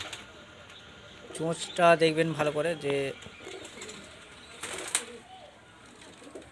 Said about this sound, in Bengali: এটা হচ্ছে মেল পায়রা।